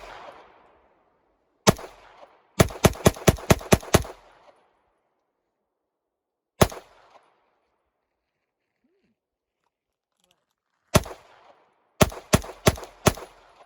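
KC9 handgun firing outdoors: sharp, loud single shots and quick bursts of five or six rapid rounds, separated by long silent pauses, each crack decaying quickly.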